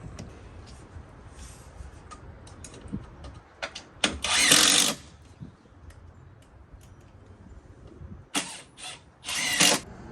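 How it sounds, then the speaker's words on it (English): A power drill drives a screw into a small spacer board while building a wooden fence gate, with two loud whirring bursts separated by clicks, taps and handling noises close by. "You screw it down."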